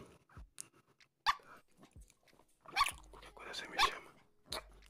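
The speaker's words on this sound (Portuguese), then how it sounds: "Esse cachorro não para de latir." A dog barks in short, sharp bursts at a moderate distance, scattered across a quiet ASMR-style setting.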